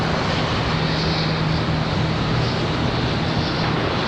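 A jet airliner takes off from Charlotte Douglas airport, heard as a loud, steady, broadband engine roar with a faint low hum running under it and no speech.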